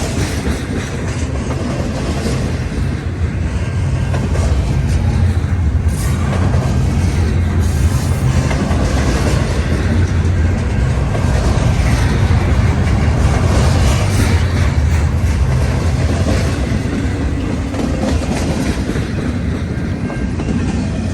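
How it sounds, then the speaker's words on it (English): A long intermodal freight train rolls steadily past close by, its loud, continuous rumble of wheels and railcars carrying faint clickety-clack rhythm throughout with no talk. "this is a typical intermodal train"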